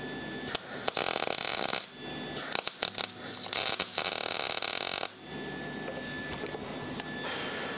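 Welding on an improperly cleaned metal patch in a car's engine bay, a harsh, crackling, raspy buzz in sustained bursts with brief pauses, fairly close and with no talking.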